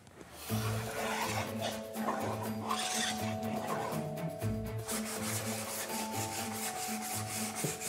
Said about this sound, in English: I just need to shape them with the planer, give them that slightly domed finish that they have on the originals.